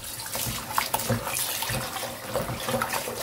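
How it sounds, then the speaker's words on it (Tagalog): Tap water runs steadily over fish being washed under a kitchen faucet before marinating, a continuous close splashing gush with shifting rinsing sounds and no talk. "hugasan natin yung isda"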